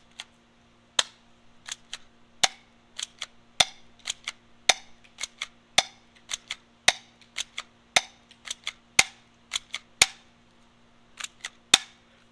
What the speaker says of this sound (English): Just cock this one back and we're going to shoot it.